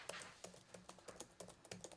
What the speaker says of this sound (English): just typing some words in the dark by yourself?